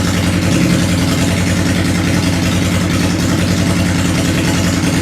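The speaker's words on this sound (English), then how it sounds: "This is the proper idle speed for a Honda Shadow." A Honda Shadow 600 or 750 motorcycle engine idling close by, a loud, steady, even low thumping pulse holding at about 1200 rpm without pause.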